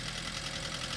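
A 2016 Chevy Spark engine idles with a clacking fault, giving a steady, close mechanical drone with a rattling knock running through it, with no voices.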